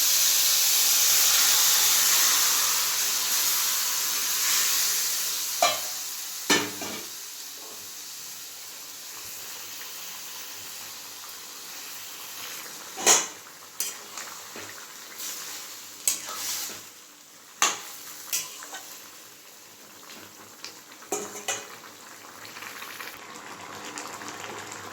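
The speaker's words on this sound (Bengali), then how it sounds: "সর্ষেটা যখন ভাজা ভাজা হয়ে যাবে তখন লাউগুলো সব এর ভিতরে দিয়ে দেব।" White mustard seeds fry in oil with bottle gourd, a continuous soft sizzle and hiss with scattered sharp pops and ladle clicks, steady and close.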